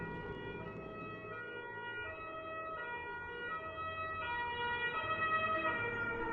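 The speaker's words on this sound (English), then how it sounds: "There's an ambulance that's going to go by." An ambulance siren wails through a video game's audio, its rising and falling tones steady and fairly loud, swelling slightly toward the end as it passes over a low background hum.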